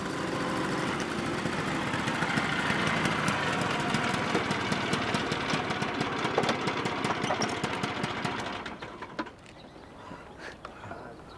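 A motorcycle engine idles with a steady, fairly loud mechanical rumble for several seconds, then cuts out abruptly, leaving quieter background sound with no talking.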